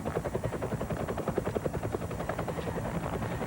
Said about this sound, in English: The helicopters are honing in on them now.